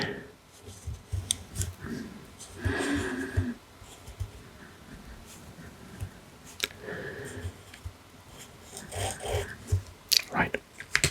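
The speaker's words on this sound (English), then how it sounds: "let's zoom in and draw the contour" A pen tracing the outline of a map on paper, soft scratchy strokes coming in bursts with pauses, close and quiet, while a voice talks intermittently.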